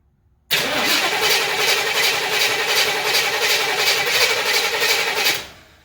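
A 1966 Chevrolet Impala's 283 V8 catches after a brief silence, roaring to life at once and running loud and steady for several seconds before the sound tails off at the end.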